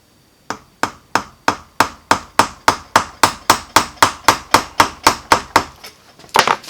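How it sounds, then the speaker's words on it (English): A plastic hammer strikes a stuck tappet on an old, long-sitting, seized Cummins CP3 injection pump: about twenty sharp, close knocks in a steady even rhythm, with a louder double blow at the end, no talking. "let me take my plastic hammer."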